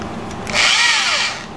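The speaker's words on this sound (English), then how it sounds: "So now I'm going with the larger drill bit. Start my real holes." A power drill with a large bit whines up to speed and bites into a V-shaped guitar body for about a second, loud and close, its pitch sagging under load before easing off.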